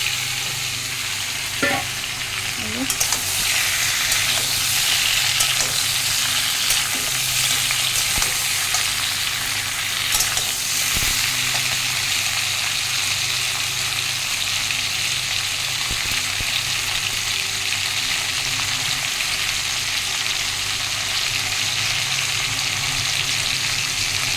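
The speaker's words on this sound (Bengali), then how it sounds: "এবার পটলটা ভাজবো" Pointed gourd (potol) and potatoes frying in a pan, giving a steady, loud sizzle throughout with occasional stirring scrapes and clatters, no voices.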